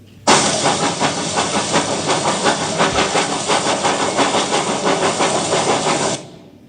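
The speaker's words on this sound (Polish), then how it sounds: "pociąg wtoczył się na stację" A steam train pulls into a station with a loud, steady hiss of steam over a rhythmic chuffing pulse. It starts abruptly, holds at close range for about six seconds, then cuts off.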